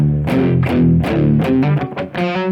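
Palm-muted electric guitar chugs through a riff, a distorted, tightly damped run of repeated low strums played alone, loud and close.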